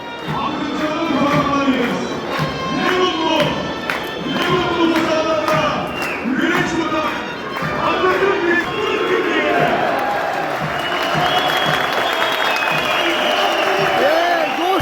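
A large crowd applauds and cheers as a giant Turkish flag is carried past at the historic Kırkpınar oil wrestling arena in Edirne, a loud, continuous roar with rhythmic clapping and chanting throughout.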